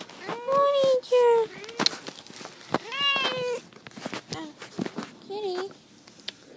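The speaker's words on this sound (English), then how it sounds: "here comes my cat" A house cat meows several times close by, with drawn-out rising and falling cries spaced by short pauses.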